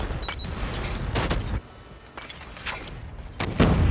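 Gunfire bursts and booms in the Call of Duty Mobile video game, with bursts of shots and explosions coming and going between quieter gaps.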